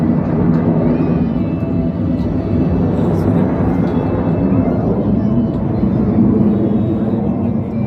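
A jet aircraft at an air show in Nashik passes very close overhead with a loud, sustained roar that holds steady and swells slightly, a faint whine riding on top.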